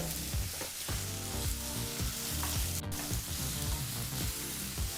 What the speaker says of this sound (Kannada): ಈಗ ಈರುಳ್ಳಿನ ಲೋ ಟು ಮೀಡಿಯಂ ಫ್ಲೇಮ್ನಲ್ಲಿ ಫ್ರೈ ಮಾಡ್ಕೋಬೇಕಾಗತ್ತೆ